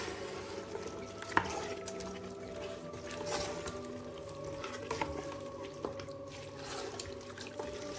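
A spoon stirs a mixture of soaked, drained chana dal and spices in a pot, producing soft scraping and wet sizzling textures with occasional clinks, steady and close, with no one talking.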